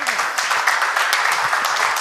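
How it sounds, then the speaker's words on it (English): Audience applause at the close of a medical lecture session on ECGs, steady and fairly loud clapping filling the whole brief moment, with a voice partly audible over it. "Big round of applause, ladies and gentlemen."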